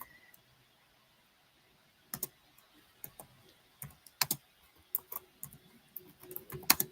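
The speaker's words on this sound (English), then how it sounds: "I'm typing this in so you have at least the name of it." Quiet typing on a computer keyboard begins after a short silence, then continues as irregular bursts of light key taps and clicks with small pauses between them.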